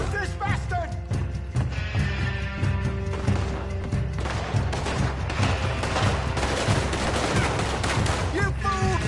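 Gunfire in the video game Red Dead Redemption 2, rapid repeated shots and bursts over a dense battle din, loud and close, with voices shouting in between.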